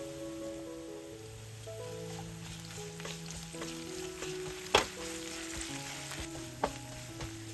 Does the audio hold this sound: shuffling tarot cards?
no